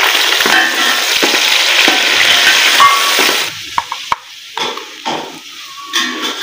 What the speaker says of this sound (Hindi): टमाटर जी हमारे गल चुके हैं और फ्राई भी हो चुके हैं जी